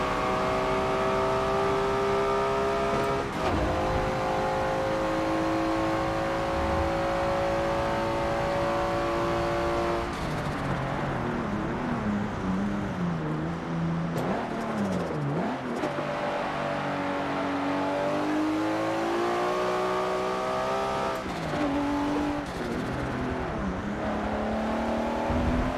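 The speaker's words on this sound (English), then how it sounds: "Something about pushing it to its limits, listening to the engine burble," A six-cylinder race car engine in Forza Motorsport 7 revs hard and steadily, its pitch climbing through gears, dipping on shifts and rising again, loud and close with no talk.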